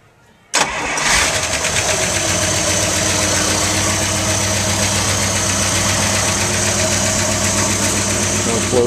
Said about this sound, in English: Engine runs great, starts like it's supposed to.